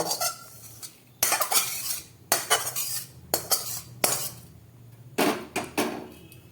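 Metal utensils clink and scrape sharply against a pot as fried coconut goes in with fried semolina, several distinct clatters in uneven bursts, close and clear with no talking.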